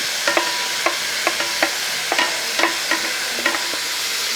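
Crushed ginger, garlic and green chilies frying with onions for prawn biryani, a continuous sizzle broken by regular, close spatula taps and scrapes against the pan.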